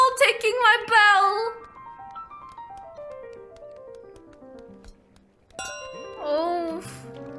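Chiming bell from Untitled Goose Game, bright ding-dong tones ringing near the start and again near the end, with a slow fading tail between; a voice talks over the first chimes.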